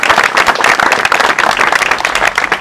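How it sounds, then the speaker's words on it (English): Audience applause at a charity golf event, dense steady clapping from a crowd filling the whole moment, close and fairly loud without pause. "So I'd like to give them a round of applause"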